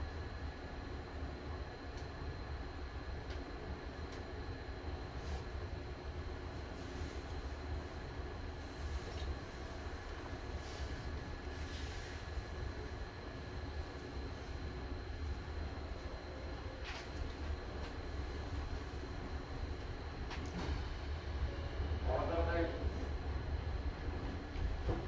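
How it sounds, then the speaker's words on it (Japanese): Seibu 2000 series electric train, set 2053F, running from Higashi-Murayama toward Kokubunji, recorded from inside the car above the line breaker: a steady low rumble and rail noise, quiet and continuous, with faint clatter near the end. "この電車は間もなく発車いたします。"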